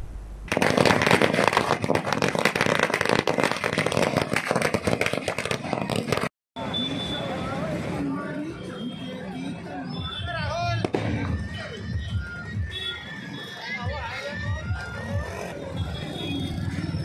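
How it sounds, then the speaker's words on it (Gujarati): Firecrackers set off by young people celebrating in the Shaktinath area: dense, loud crackling bursts fill the first six seconds, then a crowd of voices and scattered noise continue. "ફટાકડા ફોડી તેમજ મીઠાઈ વહેંચી ઉજવણી કરવામાં આવી હતી"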